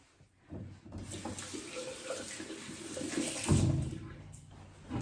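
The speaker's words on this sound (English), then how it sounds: "and then I need to rinse that off" Tap water runs steadily into a sink while a face exfoliant is rinsed off, a close, continuous rush with splashing that swells briefly near the end.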